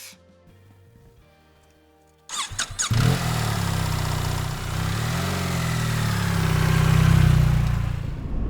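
A BMW GS 1300 Adventure motorcycle rides at night. After a quiet start, a loud engine roar cuts in and holds as a steady, close drone that swells slightly as the bike moves along.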